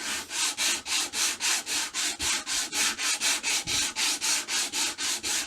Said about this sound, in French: Et on fait quoi? Ah ben, on ponce.